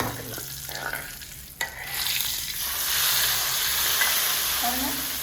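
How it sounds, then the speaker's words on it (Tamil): Hot tempering is poured over a spicy okra (vendakkai) kara kuzhambu curry, setting off a loud, close sizzle that swells after a sharp clink and then holds as a steady, bubbling hiss. "இந்த தாளிப்பு அப்படியே எடுத்து அந்த குழம்பு மேலே நம்ம போட்டுடலாம்."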